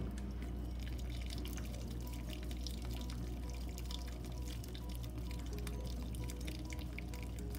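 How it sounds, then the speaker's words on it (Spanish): Strained salsa pours into a cooking pan in a continuous close liquid stream with splashy, dripping texture throughout. "Vamos a poner la salsita, miren, a mí me gusta así colada"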